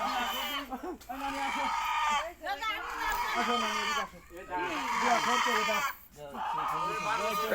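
A native rooster at a farmyard gives repeated clucks and short calls, close by, mixed with steady people talking over it.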